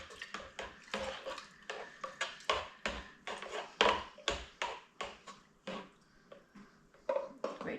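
Ginger mead being stirred in a plastic brewing bucket, a utensil knocking and scraping in a steady series of rhythmic clinks and swishes, close and fairly loud, with no talking.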